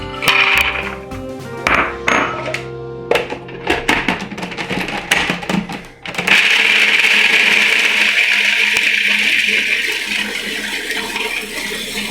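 A blender is pureeing toasted macadamia nuts. Irregular knocking and clattering bursts at first, then a steady high-pitched whirring grind that runs loud and continuous.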